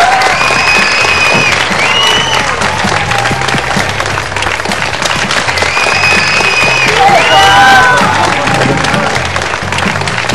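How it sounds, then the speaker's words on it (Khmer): An audience at a televised quiz show claps loudly and continuously, with a dense, close wash of applause and bright musical tones over it. "ខ្ញុំសូមគោរពអញ្ជើញបងប្អូនមកកាន់ទីកន្លែងសូមសំលេងអបអរសាទរ"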